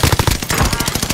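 Rapid automatic gunfire in Call of Duty Warzone on Rebirth Island, a loud, fast string of punchy shots filling the whole short burst.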